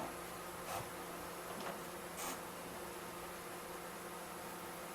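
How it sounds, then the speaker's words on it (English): A steady electronic hum and whir with a faint buzzing drone, broken by a few soft clicks, from a PlayStation 2 spinning a disc. "The magic sounds of a PS2 running a disc."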